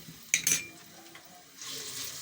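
Ginger garlic paste drops into hot oil for moong dal, giving a sharp splattering burst followed by a softer, watery sizzle that swells again toward the end, fairly quiet and with no voices.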